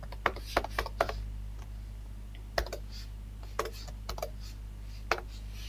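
C code being typed on a computer keyboard: scattered, crisp key clicks in small bursts and pauses, fairly close, over a low steady electrical hum, with no talking.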